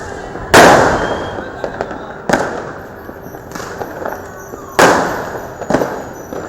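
Firecrackers and fireworks go off at midnight on New Year, three sharp bursts a couple of seconds apart, each with a crackling decay. Fainter pops sound between them, with no talk over the blasts.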